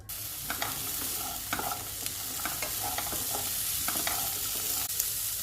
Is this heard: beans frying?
yes